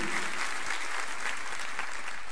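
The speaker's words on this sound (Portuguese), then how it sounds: "dá uma salva de palmas para Ele com uma aprovação" Audience at a church conference applauds continuously, a dense sustained patter of many hands clapping throughout at steady loudness.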